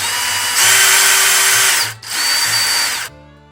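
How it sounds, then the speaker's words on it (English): A power drill bores holes straight through a flea-market decor piece hung over a counter edge, in two loud sustained runs with a brief pause between them, then stops abruptly. "so to drill these holes, we're just gonna hang it over the counter"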